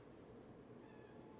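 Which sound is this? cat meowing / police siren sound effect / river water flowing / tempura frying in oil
cat meowing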